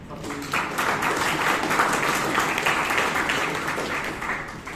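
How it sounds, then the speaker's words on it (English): Members at a Bangalore Toastmasters club meeting give a round of applause for Toastmaster Kirtana, a steady, fairly loud wash of clapping lasting several seconds. "let us give one more round of applause to Toastmaster Kirtana"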